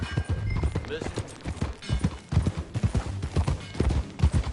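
Horse hooves clip-clop in Red Dead Redemption 2, a steady trotting rhythm of soft thuds running through the whole stretch alongside other game sounds, with speech-like sounds mixed in.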